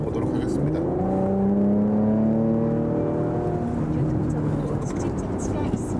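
Porsche Macan GTS engine in sport plus mode, rising through the revs while driving on the road, a steady loud drone with climbing tones, a voice talking over it.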